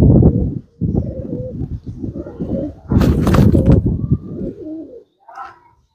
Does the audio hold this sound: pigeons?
yes